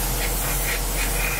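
A spray gun applies paint to a model, giving a steady, continuous hiss with slight pulsing throughout, close and alone with no talk.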